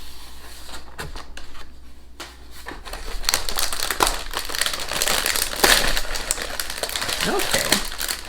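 Gold foil wrapping around McVitie's Victoria chocolate biscuits crinkles and crushes close up in a series of sharp rustling bursts that grow busier and louder toward the end.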